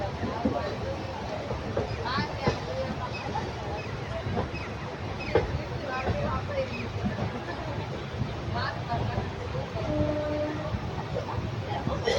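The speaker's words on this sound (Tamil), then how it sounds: "திருச்சிராப்பள்ளி மொத்த ஜங்ஷன் பாருங்கள்" A train rumbles at Tiruchirappalli railway junction with continuous rolling noise and clanks, while a horn sounds faintly in the distance and people talk in the busy station.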